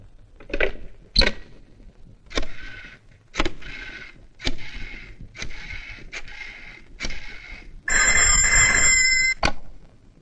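A telephone rings repeatedly after a call is placed, with short bursts spaced through the passage and a louder, sustained electronic trill near the end.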